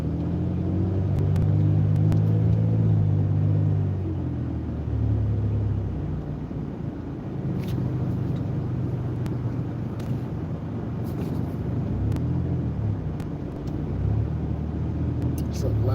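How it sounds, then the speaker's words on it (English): Heavy road traffic rumbles in a low, continuous drone, with vehicles passing nearby and occasional higher clatters over the steady engine noise; a person talks over it. "There's a lot of heavy traffic here."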